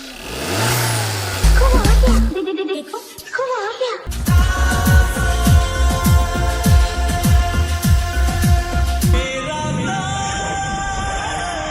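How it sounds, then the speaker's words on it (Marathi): A new four-wheeler car pulls up at a house doorway. The engine revs loudly in repeated surges and then settles into a steady running hum, with excited voices shouting nearby at the start. "ती बघा गाडी आली आली आली आली"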